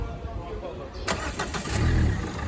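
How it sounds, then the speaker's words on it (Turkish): A Renault Megane 3 engine cranks and catches, a short burst of starter whir settling into a low idle rumble, close by in a workshop, with someone speaking over it. "çalıştır abi aracı"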